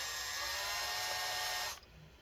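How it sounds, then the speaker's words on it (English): A power drill bores out holes in a metal plate inside an Acer Aspire laptop, whining loud and steady at close range before cutting off abruptly near the end, leaving a faint hum. "basically we're just going to drill these out"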